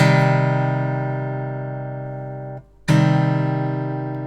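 A sustained minor chord rings out and decays, is cut briefly, then struck again, sounding full and clear.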